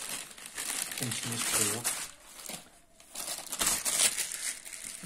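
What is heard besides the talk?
opening the packaging of a BM 800 microphone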